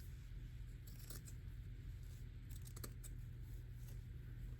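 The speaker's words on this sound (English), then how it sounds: "you're using your paper scissors to cut" A few crisp snips of paper scissors cutting cloth from a rag rug, close by, spaced irregularly over a steady low hum.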